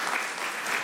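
Brief burst of dense audience applause at a city council meeting, loud and close, with no other sound.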